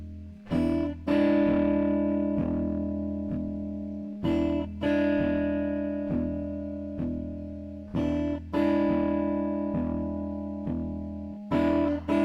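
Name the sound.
guitar playing twelve-bar blues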